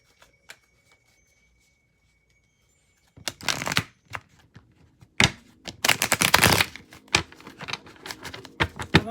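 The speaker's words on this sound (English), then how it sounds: "I've already shuffled this deck" A deck of reading cards is shuffled close by after a few seconds of near silence, a series of crisp riffling bursts and flicking clatters that come in uneven waves.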